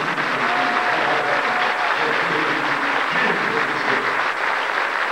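Steady audience applause at a church testimony service fills the whole stretch, dense and even, with a faint voice murmuring underneath.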